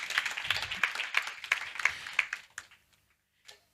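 A scattering of audience members claps at a youth fellowship keynote address, giving a short run of sharp, evenly spaced claps that thins out over about three seconds, with one last lone clap after a pause.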